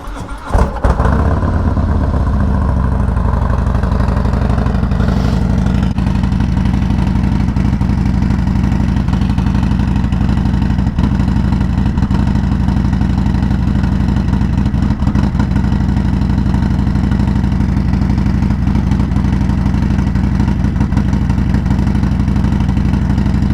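A 2019 Harley-Davidson Fat Bob with an S&S 475 cam and Cobra El Diablo 2-into-1 exhaust fires on a cold start and settles into a loud, steady, throbbing idle close to the microphone.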